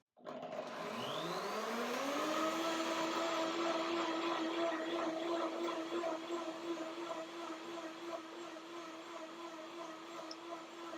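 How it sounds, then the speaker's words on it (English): A blender mixing sweet-sour cashew salad dressing whirs up to speed and holds a steady, loud motorized drone with a rising pitch at the start, running continuously without talk. "One more blender dance to make it creamy."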